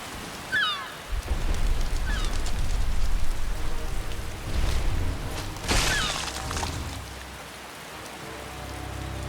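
Steady rainstorm in the Skyrim video game, a loud continuous hiss of falling rain with a few brighter splashes and a faint rumble underneath.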